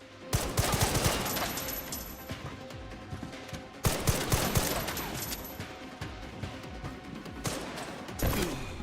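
Bursts of enemy gunfire in a video game, volleys of rapid shots in two or three waves with brief gaps, loud and close, no talking.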